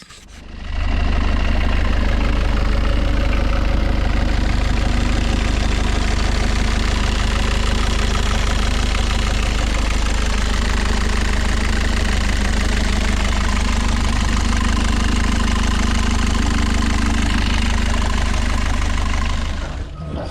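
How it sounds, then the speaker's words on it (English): A Volvo Penta D2-55 marine diesel on a sailboat runs steadily at idle, a loud, close, continuous low rumble with a knocking diesel chatter that holds evenly throughout. "then restart the engine, leave it to cool down,"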